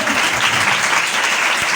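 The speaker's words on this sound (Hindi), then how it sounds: "और जोरदार तालियां पीछे से" Loud, dense applause rises from a church congregation at the back of the hall, a steady unbroken wash of many hands clapping close and alone.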